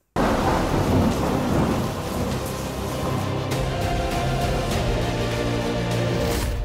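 Heavy rain pours during a thunderstorm amid landslides at Shirur, making a dense, continuous roar with deep thunder rumbling underneath from start to finish.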